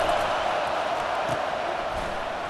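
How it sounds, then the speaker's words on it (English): Home crowd in EA Sports College Football 25 roaring as the defense tries to get off the field on third down, a steady, dense wash of cheering that holds at an even level throughout. "Here comes this home crowd as the defense tries to get off the field on third down."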